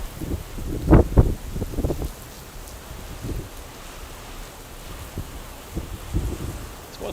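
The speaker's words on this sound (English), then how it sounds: "Here comes another gust." Gusty wind and rain from a severe storm in Greenville, with a strong rumbling gust burst near the start, then a steady wash of wind and rain noise and occasional buffeting against the microphone.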